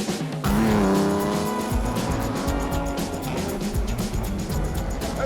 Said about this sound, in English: It's an Aston Martin DB4 GT lightweight.